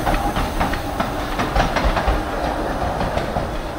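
A miniature but real steam train on a narrow-gauge railway rolls past nearby with a steady rumble, rhythmic clickety-clack of wheels over rail joints and a faint hiss of steam, continuous throughout with no talking.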